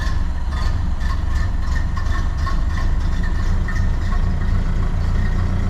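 A Ford Model A engine idles after a cold start on a chilly December day, a steady low rumble with a fast even chug, loud and close throughout, with no talking.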